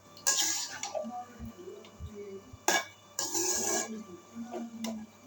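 Pasta being stirred with tomato and onion in a pan, a couple of bursts of wet scraping and rubbing against the pan with quieter gaps between them, close up and without talk.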